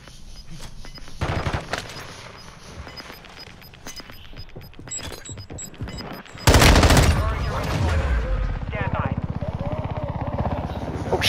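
Automatic gunfire and explosive bursts ring out in a fast-paced shooter match, dense rapid volleys loud and close, with a heavy blast midway followed by sustained firing while a player talks over the chaos.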